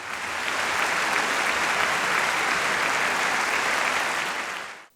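After a performance of Mozart's opera Così fan tutte at the Grimaldi Forum in Monte-Carlo, a packed hall applauds in a loud, dense, even wash of clapping that holds steady, then cuts off abruptly at the end.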